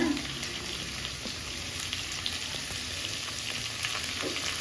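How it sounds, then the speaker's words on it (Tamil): Onions sauté in a pan for Tamil-style chicken varuval, a steady soft sizzle and crackle running evenly throughout with faint scraping, no voices. "இது வந்து அப்படியே வதக்கி விட்டுலாம் வெங்காயம் நல்லா வதங்கணும்"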